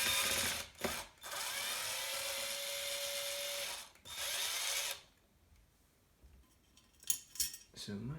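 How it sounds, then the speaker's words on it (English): Power driver removing screws from an aluminium RC car chassis, a steady whirring drill tone running for several seconds with a brief pause, followed by quieter clicks and handling of small parts. "Always handy to have a power driver while you're doing this."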